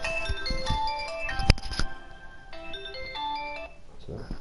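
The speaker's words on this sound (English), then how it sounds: "Oh, 2 seconds, got a phone call." A phone ringtone for an incoming call plays as a repeating electronic melody of bright tones, moderately loud and close, during a PS4 session of the game Paragon, with a brief sharp knock partway through.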